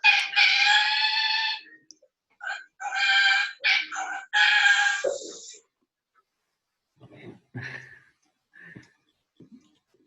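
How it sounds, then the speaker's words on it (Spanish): A rooster crows loudly and close, with one long call and then broken, shorter crows, followed by faint scattered sounds. "Qué tarde tu cante de gallo"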